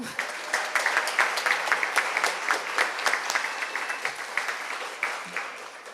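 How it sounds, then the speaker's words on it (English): Audience applause for sponsors at an afternoon community panel discussion, a dense, fairly loud spread of clapping hands that holds steady for several seconds with a slight fade near the end. "Let's give them a round of applause."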